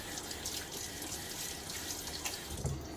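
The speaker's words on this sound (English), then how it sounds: "I'm going to splash my face a little bit." Hard, cool tap water is splashed onto the face before a shave, giving a close, continuous run of watery splashing and dripping that carries on steadily, with a heavier splash near the end.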